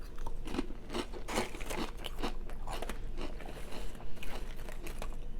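Someone crunches and chews barbecue Doritos chips up close. Brittle cracks and crackly bites come in quick irregular bursts over several seconds, with no talking.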